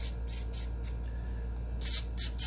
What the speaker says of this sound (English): you can spray down the firing pin channel on both ends